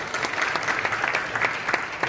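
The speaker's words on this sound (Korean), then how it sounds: "자, 우리 박수로" Applause at a Korean church general assembly election committee report fills the room, dense steady clapping from a seated audience throughout, moderately loud with no voices on top.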